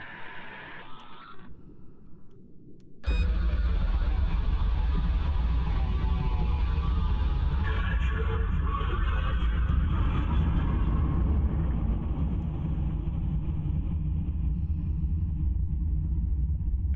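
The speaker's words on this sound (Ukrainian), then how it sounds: "По приборам кажется, начинается небольшой шторм." Deep continuous rumble of an underwater storm in the horror game RebreatheR, starting abruptly after a quieter stretch and holding a loud, dense low roar to the end.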